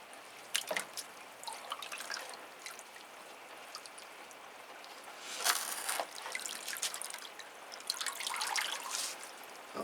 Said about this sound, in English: The water's running out almost black with the dust from the charcoal.